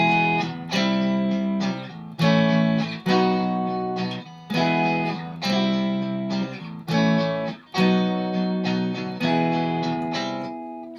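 Guitar chords played in E-form shapes from the CAGED system, strummed in bright rhythmic bursts about twice per second, each chord ringing briefly before the next, close and clear with no talking.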